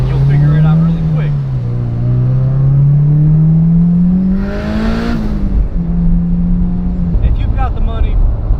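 Turbocharged Honda S2000 pulling hard at full throttle, a loud steady engine drone climbing in pitch for several seconds, easing briefly, then holding on again with faint chatter over it.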